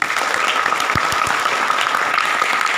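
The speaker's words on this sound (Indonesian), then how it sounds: "Aplaus dulu dong buat Anda semua." Audience applause at a multi-level marketing seminar: steady, dense clapping from a crowd, fairly loud and sustained throughout, with no speech over it.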